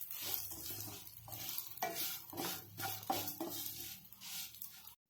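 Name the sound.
vermicelli frying and being stirred in ghee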